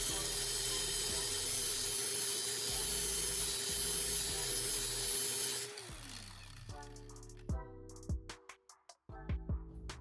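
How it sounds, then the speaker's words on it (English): A drill bit being sharpened against a spinning angle grinder disc, a loud steady grinding whine that runs for several seconds before the tool winds down, then scattered clicks and clanks of handling. "Let's see how easily it sharpens on the angle grinder disc."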